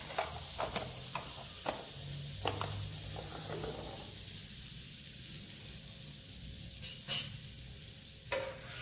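A mix of butter and a little oil heats on a tawa and gives a soft, low sizzle. Several sharp knocks of utensils and faint stirring sit over a quiet background, and there is no speech.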